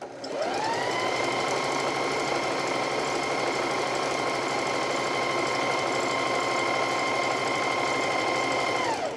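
Domestic sewing machine stitches fabric in one continuous mechanical whirr, steady and close, rising at the start and holding evenly to the end with no talk.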